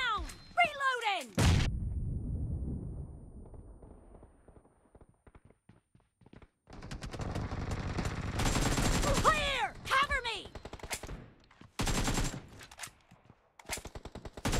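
Gunfire in the mobile game PUBG Mobile: bursts of automatic shots and sharp single cracks come in clusters between quieter gaps, mixed with game effects and brief voice callouts.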